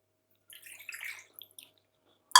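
Water poured into a pan or glass while making tea, a short trickling splash that runs for about a second and then stops, followed by a brief sharp clink.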